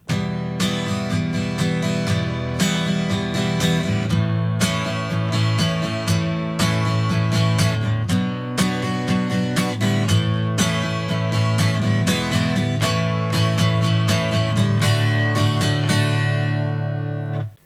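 Guitar playing the second bridge of a song, steady strummed chords with a full, continuous sound, loud and close throughout with no voice over it.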